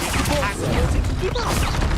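Expulso blast spell going off in the video game Hogwarts Legacy, a dense crashing burst of combat noise with layered magical effects, loud and sustained over the whole moment.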